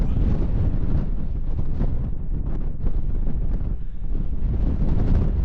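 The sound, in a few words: raw wind on an exposed road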